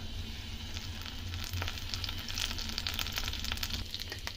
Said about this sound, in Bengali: তেল গরম হয়ে গেলে এতে আমি দিয়ে দেবো হাফ চামচ সর্ষে আর দেবো এখানে একটা শুকনো লঙ্কা আর দেবো আট দশটা কারি পাতা